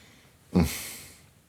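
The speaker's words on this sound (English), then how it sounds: "Let's have a sniff." A single close sniff of Serge Lutens Fumerie Turque perfume, a short sharp inhale that trails off into quiet.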